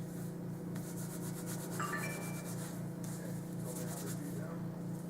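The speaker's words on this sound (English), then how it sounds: "take a small bit of my shea butter, I don't know if you can see that, rub it in my hands to kind of warm it up" Shea butter rubbed between palms to warm it before styling hair, giving a soft, repeated rhythmic rubbing texture, faint and close, over a low steady background hum.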